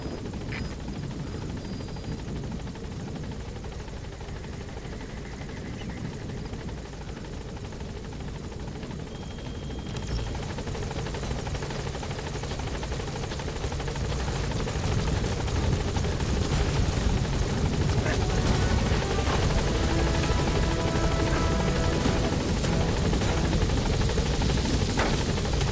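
Pequod, the support helicopter in Metal Gear Solid V, climbs away with a steady rotor and engine drone that swells louder over the last half, with no talk.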